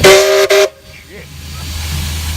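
A steam locomotive at Charters Towers, Queensland, vents steam in a loud, harsh hiss with a whistle-like tone, cut off abruptly after a moment and followed by quieter rumbling background noise.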